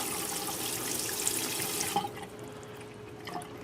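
Water trickles and splashes steadily onto alfalfa sprouts for about two seconds, then stops, leaving faint drips and quiet room noise.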